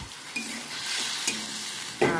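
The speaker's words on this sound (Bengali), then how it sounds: "এবার এই মশলাটার মধ্যে আমি এই আলু আর পনিরগুলোকে কষতে থাকবো।" Potatoes and paneer frying in a spice masala for a light vegetarian curry, a steady close sizzle with several sharp stirring scrapes and clinks of the spoon against the pan.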